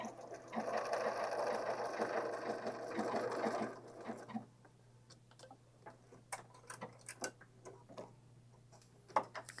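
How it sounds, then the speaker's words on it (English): A Bernina sewing machine runs in a fast, steady whir as it stitches through folded fabric layers, then stops, leaving scattered clicks and handling taps. "if we fold this over and we sew through these layers,"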